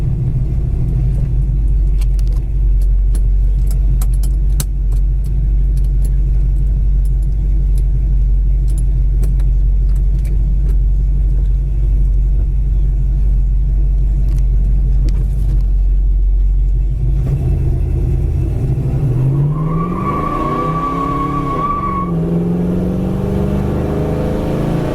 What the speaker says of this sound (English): This car is a lot of fun to drive.